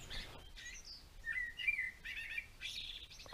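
A thrush sings nearby in clear, varied whistled phrases and chirps, repeating in short bursts with brief pauses, from bushes in Norway, no talking.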